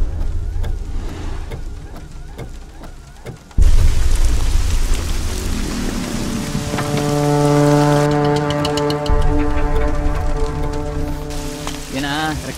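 Steady heavy rain hisses throughout, with a deep low rumble like thunder breaking in partway and sustained tonal droning layered over the downpour in the second half.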